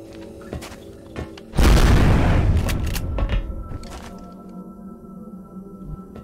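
A shotgun fires in XCOM: Enemy Within as one loud, booming blast that cuts through quiet game ambience and trails off into a rumbling decay. A couple of softer thuds follow.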